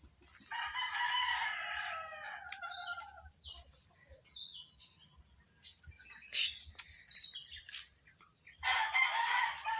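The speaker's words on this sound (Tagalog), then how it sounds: "Nandiyan yung mga manok ni Papa." Chickens and a rooster outside near a house: the rooster crows several times, with scattered clucking and bird calls between, fairly close but soft, with no talking.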